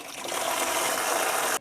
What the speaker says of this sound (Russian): обязательно все промываем проточной водой